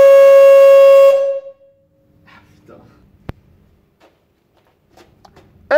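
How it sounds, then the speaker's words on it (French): Giant homemade horn built from a traffic cone gives a loud, sustained, buzzy honk for just over a second, then cuts off into near silence with a few small handling knocks. "je vais vous montrer comment fabriquer un énorme klaxon avec juste un cône de signalisation"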